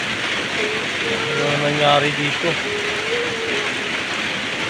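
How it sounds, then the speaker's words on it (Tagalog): Heavy rain that has lasted for days pours down as a loud, steady hiss, while someone briefly says a few words over it. "Grabe yung lakas talaga ng ulan, no?"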